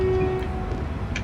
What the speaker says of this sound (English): They've got a nice sounding horn on these.